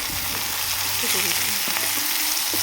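A spice paste with turmeric and salt fries for a silver carp fish curry, sizzling loudly and steadily up close with light stirring and scraping running through it.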